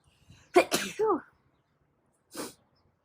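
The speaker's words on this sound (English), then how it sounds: "I'm gonna sneeze." A person sneezes close by, a sharp breathy burst with a short vocal tail, followed by a quieter second exhalation after a pause.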